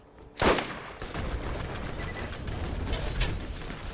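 A sniper rifle fires in the video game Borderlands: one sharp loud crack followed by a steady wash of game noise and mechanical rattle.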